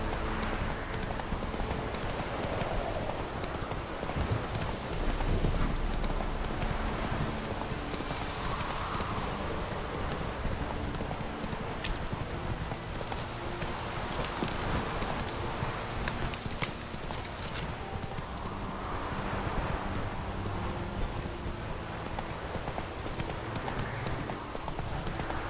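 Roach the horse galloping in The Witcher 3, with a steady rhythmic clip-clop of hooves running continuously under ambient game sound.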